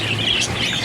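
African lovebirds give a short burst of bright, high chirps and tweets, close and fairly loud, with no talking over them.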